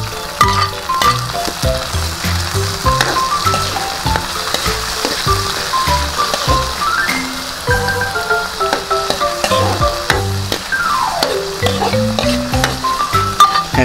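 Onions and tomatoes sizzle loudly in a pan as they sauté, with steady frying crackle, intermittent stirring and metallic clinks throughout, no voices.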